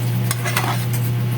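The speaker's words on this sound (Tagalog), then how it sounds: "habang kumukulo, lalo yun siyang lumalapot" A steady bubbling simmer of orange sauce for shrimp in a pan with faint scraping of a utensil, close up and continuous, no voices.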